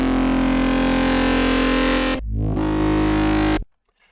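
A thick, buzzing drum and bass bass note, distorted by a saturator, drones loudly, cuts out briefly, then returns before stopping abruptly.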